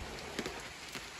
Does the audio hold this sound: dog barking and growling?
no